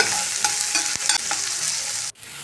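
Two large onions frying in a pan for a greens palya, a dense close sizzle with several stirring scrapes before the sound abruptly cuts and settles lower.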